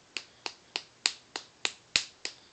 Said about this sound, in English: Just take your two fingers together and then just let this smack.